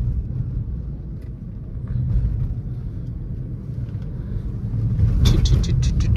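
2012 Suzuki Swift VDI diesel pulling away from idle in second gear, a low, steady engine rumble heard from inside the cabin that swells slightly as it picks up, with faint rattles near the end.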